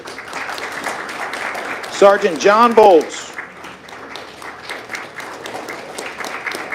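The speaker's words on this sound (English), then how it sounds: "let's hold our applause for the end" An audience at a ceremonial police swearing-in applauds briefly, a short burst of clapping in a large room between spoken announcements over a public address system.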